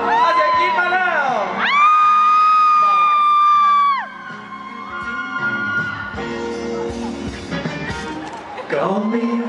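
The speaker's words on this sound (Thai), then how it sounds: "ขอเสียงตบมือหน่อยครับผมขอเสียงกรี๊ดมาแล้ว" A concert crowd at an MHealth event screams and cheers loudly with long high shrieks and whoops, alongside amplified singing and music.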